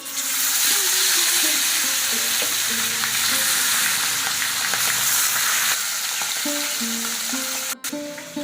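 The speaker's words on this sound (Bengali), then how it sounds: "মাছটা আমি ভাজতে দিয়েছি" Fish sizzles loudly and steadily in hot oil in a home kitchen, a dense continuous frying hiss with crackles that runs for the whole stretch with no talking.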